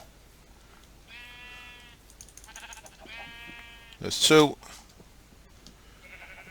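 Minecraft sheep from the FTB Unhinged modpack bleat several times in short wavering calls, with one louder burst of game noise and someone briefly speaking over it.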